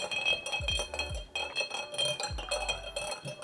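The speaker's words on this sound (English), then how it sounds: "And give it a stir." A spoon stirring a clarified coconut milk punch of cognac, port and Earl Grey in a glass, with quick repeated clinks and rattles in short bursts, close and clear.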